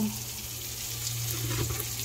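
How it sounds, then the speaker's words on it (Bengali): Water running or pouring into a pan of small fish (gura mach) being cooked in a home kitchen, a steady soft trickle with a low hum underneath, continuous over a couple of seconds. "আবার একটু পানি দেন"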